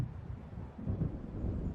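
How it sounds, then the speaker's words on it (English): Low rumbling thunder of an approaching storm in the video game Alan Wake, a continuous deep roll swelling slightly louder partway through, with a windy undertone and no speech. "It seems there's a storm coming."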